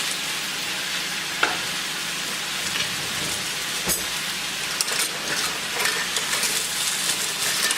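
Meat browns in a frying pan for a keto pizza casserole, giving a steady close sizzle with occasional clicks and scrapes of a spatula, with no talking over it.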